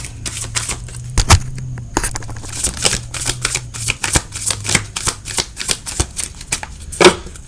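Tarot cards are handled and shuffled up close, with rapid crisp riffling flicks and taps in irregular bursts, fairly loud, without talk.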